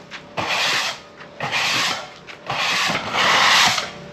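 Floor scraper dragged in repeated strokes across a hard floor during cleanup at a commercial plaza, four rough scraping passes about a second each, close and fairly loud with short pauses between.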